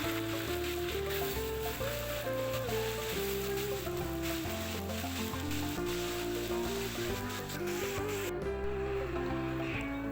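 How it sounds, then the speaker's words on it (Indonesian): Pieces of chicken sizzle in hot oil during a second frying. The crackle stays steady and dense for the whole stretch, close up and without talking, while music plays underneath. "Dan kita lanjut lagi untuk menggoreng yang tahap yang kedua, ayam yang gorengan kedua gitu maksudnya."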